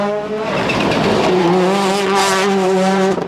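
A Ford Focus rally car on a stage at the Killarney Rally of the Lakes roars close by, its engine note rising in pitch through the revs, loud and sustained with a sharp ending.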